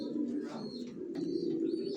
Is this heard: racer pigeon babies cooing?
yes